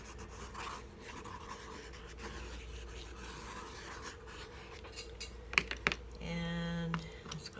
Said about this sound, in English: draw a little bit with a pencil yet